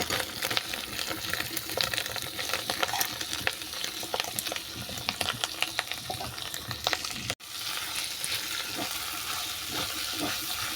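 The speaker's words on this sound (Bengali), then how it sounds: "পেঁয়াজটা দেখো হালকা করে ভেজেছি খুব বেশি ভাজবো না" Chopped onion frying in a pan after ginger and garlic for a chicken and kohlrabi curry. It sizzles loudly and continuously with stirring scrapes and a brief dropout partway through, with no speech.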